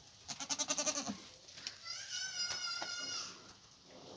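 Young goat kid bleating, a rapid pulsing cry followed by a longer wavering bleat, close by, with faint background voices.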